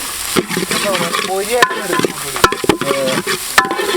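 Cabbage and mixed vegetables stir-fried in a pan for pori fried rice, loud close sizzling broken by sharp spatula clanks against the pan at uneven intervals; no talking.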